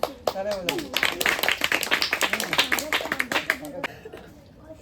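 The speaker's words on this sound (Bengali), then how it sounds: "তালিয়া" Hands clapping together in a group at a house fellowship children's games session, a series of sharp claps running through lively talking and brief laughter before fading near the end.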